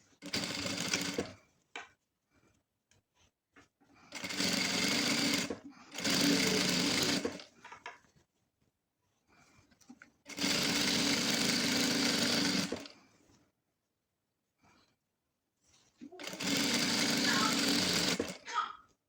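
A sewing machine stitching a fabric chair cover: repeated runs of rapid mechanical stitching lasting one to three seconds, with brief pauses and faint handling of cloth between them, close and fairly loud.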